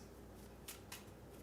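Ashes Reborn cards, unsleeved, are shuffled by hand in two quick riffling bursts close to the mic in a quiet room, with no speech.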